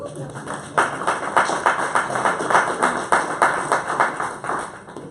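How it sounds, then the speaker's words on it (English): A municipal election debate audience claps in a loose, uneven rhythm, moderate and fairly close, with a voice speaking over parts of it. "give yourselves a round of applause for this"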